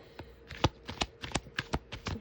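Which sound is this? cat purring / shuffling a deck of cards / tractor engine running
shuffling a deck of cards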